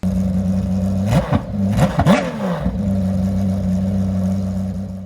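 Porsche GT3 R Rennsport race car with no muffler and only two side catalytic converters idles loudly, then snaps through three sharp throttle blips that spike and fall back to a droning idle, heard up close.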